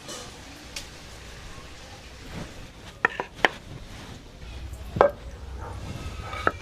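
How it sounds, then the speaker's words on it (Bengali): A knife cuts slippery monsoon-season bata fish, rubbed with ash for grip, on a cutting surface, giving a few sharp, irregular chops close by over a quiet kitchen background. "প্রথমে আমি মাছগুলো কেটে নেবো"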